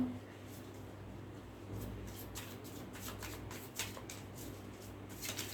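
Tarot cards being shuffled by hand: a soft, quiet run of papery riffles and flutters that continues steadily over a low background hum, with no voice.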